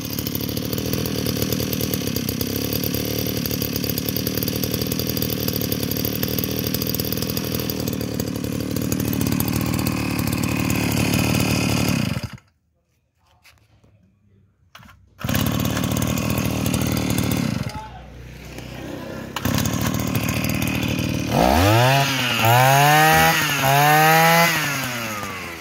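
A Shindaiwa S35 brush cutter engine runs loud and close with a harsh, steady two-stroke drone, cutting out twice for a moment before revving back up, with a voice talking over it near the end.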